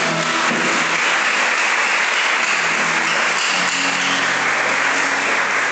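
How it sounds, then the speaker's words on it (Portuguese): A church congregation applauds during a sermon, giving a sustained, loud roar of clapping that holds steady for several seconds with a faint low tone underneath. "Aplauda Jesus por isso."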